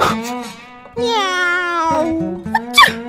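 Cat meowing at night indoors, a few drawn-out wailing meows close by, loud, with short pauses between calls.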